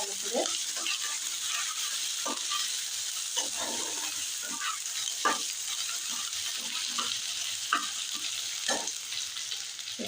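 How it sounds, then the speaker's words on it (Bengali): Garlic paste fries with onion in a pan for a fish egg curry, a steady close sizzle with scattered stirring scrapes and small pops, alone without talk. "রসুনটা একটু পেঁয়াজের সাথে ভেজে নেবো ভালো করে।"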